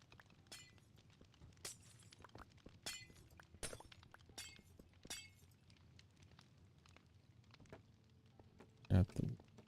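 Glass shatters in a survival crafting video game, with several sharp breaking crashes scattered through the clip and one loud crash near the end, over quiet background sound.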